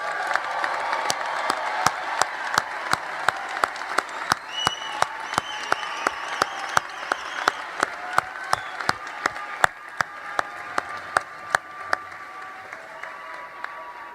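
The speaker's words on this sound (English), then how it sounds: "How about a big round of applause for all the graduates?" Sustained applause from a commencement crowd honoring graduates, a steady wash of clapping with sharp individual claps standing out throughout, fairly loud and continuous for the whole stretch.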